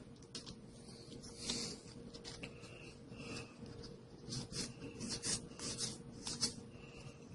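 Crinkly plastic foil of a Magic: The Gathering Theros booster pack being rubbed and torn open by hand, close irregular rustling bursts at low level with no talking.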